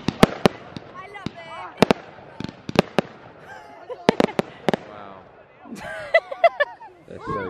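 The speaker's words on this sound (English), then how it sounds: "we're at some fireworks right now." Fireworks at a rescheduled Bonfire Night display, loud sharp bangs and crackling bursts going off in irregular clusters, some near and punchy, with people talking and reacting in between.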